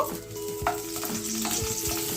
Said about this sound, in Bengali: মটরশুঁটিটা ভাপানো আছে, আমি জাস্ট একটু নেড়ে নেব।